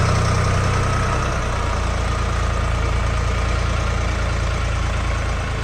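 A Jinma 244 tractor with cab idling steadily, a loud, constant low chugging hum with no change in pace and no talking.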